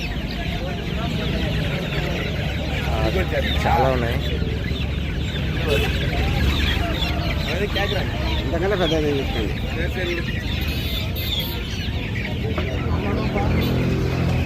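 Giriraja chickens cluck over and over at the Saturday hen market in Mydukur, Kadapa, Andhra Pradesh, amid a dense bed of crowd noise, with people talking close by throughout.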